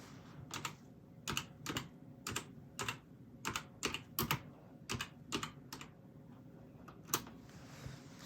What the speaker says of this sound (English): I'm now going to type in antique key